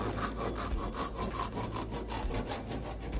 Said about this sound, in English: I'm just gonna take this little pull saw and I'm gonna trim it closer to the size I want it to end at.